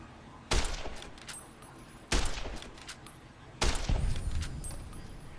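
Three sharp bursts of video-game gunfire from a shaky low-skill gun, spaced about a second and a half apart, each loud crack trailing into a brief decaying rattle with no talking.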